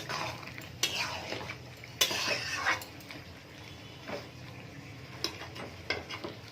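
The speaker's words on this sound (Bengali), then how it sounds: "আবারও একটু ভালো করে নেড়ে নেব।" A spoon scrapes and taps against a pan while chili chicken is stirred, with soft, irregular clinks at a moderate distance over a quiet kitchen background.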